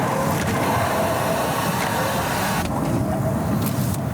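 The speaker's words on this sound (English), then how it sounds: "It does the same strange hissing noise." A strange, steady hissing comes from a Mercedes S-Class with faulty safety and braking systems, a constant broadband rush that stays level throughout, close and alone without speech.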